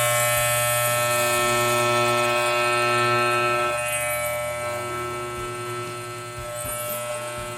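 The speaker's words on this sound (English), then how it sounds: "we're going to shave what's left on the fur fabric and go all the way down to the backing" An electric shaver trimming down fur fabric toward its backing drones with a steady, even buzz, its pitch shifting slightly midway while the motor hums on without pause.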